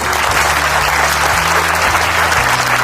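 Loud, steady applause from a large crowd at an award ceremony fills the whole stretch without a break, dense and close, with no speech over it.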